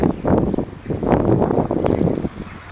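Wind buffets a microphone outdoors on a street in Yerevan near a medical centre, a loud, continuous low rumble and gusty rustle through the short stretch.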